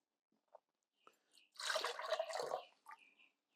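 Water poured into a jar of homemade absinthe spirit to proof it down, heard as a brief close splashing gurgle in the middle, with small clinks and taps before and after.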